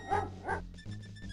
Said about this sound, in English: A bully of a dog terrorizes the poor ants. He blatantly digs at their large anthill.